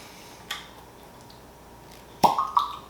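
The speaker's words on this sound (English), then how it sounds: "let's go in for a fresh cork popping" A cork pulled from a bottle of Jim Beam Distiller's Masterpiece bourbon finished in PX sherry casks gives a single sharp pop close by, followed by a couple of short squeaky bursts as it comes free in an otherwise quiet room.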